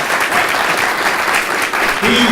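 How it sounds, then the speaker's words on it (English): Audience applause at an evening event held by IAVA, a steady, loud wash of clapping filling the room for about two seconds. "Greg, please give him a round of applause."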